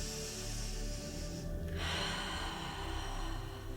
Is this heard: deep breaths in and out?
yes